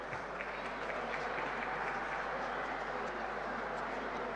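Crowd in the stands at a men's Super League basketball game between Al Ahly and Zamalek, clapping steadily in a dense, continuous wash of applause heard from a distance.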